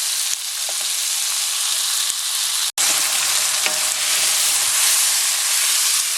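Chopped tomato sautés with onion in a hot pan for an ampalaya and salted black bean dish, giving a loud, steady sizzle and hiss with a brief dropout partway through.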